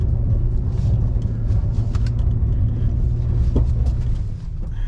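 A Nissan Frontier Pro 4X pickup off-roading at full throttle around 2,500 RPM gives a steady, loud low engine drone with scattered clicks and knocks over it, easing slightly at the very end.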